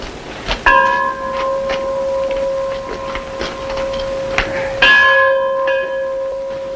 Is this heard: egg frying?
no